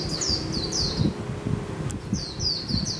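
White-eye bird chirping in a trapping setting, a run of bright, descending high-pitched chirps in two clusters, fairly close, over low background rustle and murmur.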